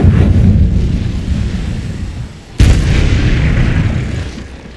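An Incendiary spell in Hogwarts Legacy bursts with a loud, sustained booming roar, a sharp second blast striking midway before the rumbling fire tails off.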